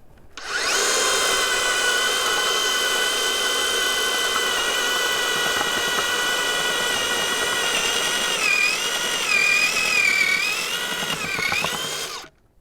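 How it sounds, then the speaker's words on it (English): A loud power drill turning an auger whines steadily for about twelve seconds, its pitch wavering near the end as the auger churns through garden soil digging a planting hole, then cuts off. "I want to do one where I'm pushing a little bit on the drill"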